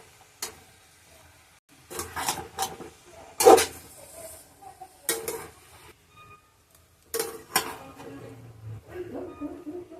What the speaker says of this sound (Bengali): লাউটা দিয়ে এবার আমি বেশিক্ষণ না মিনিট দুয়েকের মতো কষবো